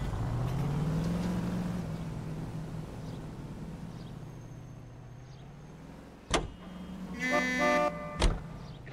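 A car driven in LA Noire hums with a steady engine drone that rises and settles, broken by two sharp thumps and a brief mechanical whir near the end.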